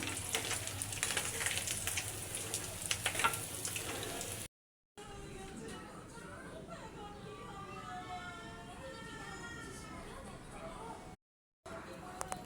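Mrigal fish roe fries in a hot pan with chili powder and salt, giving a loud, dense, continuous sizzle that later becomes softer, with stirring and bubbling and a brief gap of silence.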